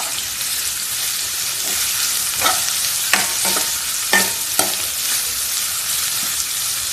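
Salted onions frying in a pan for malai chicken handi, a constant hissing sizzle with a few spoon scrapes and taps in the middle, close and without talk.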